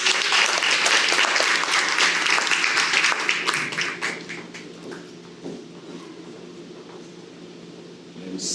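A round of audience applause at an anniversary event, loud and dense clapping for the first few seconds, then thinning and fading to a few scattered claps and quiet room tone.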